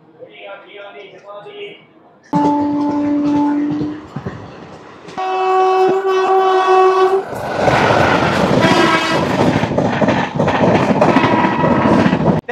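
Narasapur Express running between Dharmavaram Junction and Narasapur, its loud horn blasting in long tones over steady rumbling wagons and clatter, with voices talking aboard at the start.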